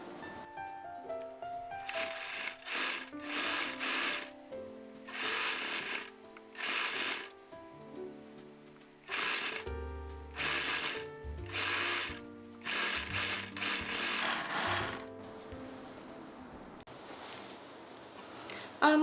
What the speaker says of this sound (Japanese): アームホールにロックミシンをかけます。